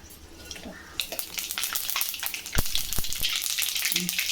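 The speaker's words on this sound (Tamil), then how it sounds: "எண்ணெய் சூடாகிடுச்சு. இப்போ நம்ம கடுகு போட்டுடலாம்." Mustard seeds hit hot oil for a ridge gourd peel thuvaiyal, setting off a dense, close sizzle full of sharp pops and crackles that grows busier over a few seconds.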